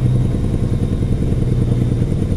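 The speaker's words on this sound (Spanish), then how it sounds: "Vamos ahora sí a activar el freno, vamos a ver qué tal suena." Engine brake of a Kenworth W900 truck in American Truck Simulator, a loud, continuous low rumbling chatter of rapid pulses that holds steady and close for the whole stretch.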